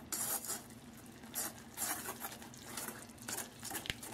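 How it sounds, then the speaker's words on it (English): A whisk works ground cinnamon and ginger together in a bowl, giving quiet rhythmic scraping and rubbing strokes in several bursts, close but soft. "I just want to whisk these together"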